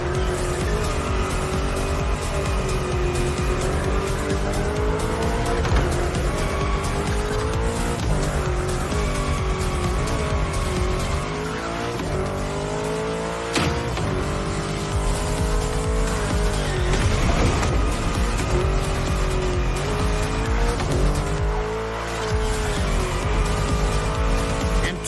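A 953-horsepower front-engined, rear-wheel-drive sports car weighing 1848 kg drifts through corners in The Crew Motorfest racing game, its engine roaring loud and steady with sustained tire squeal and shifting pitch throughout.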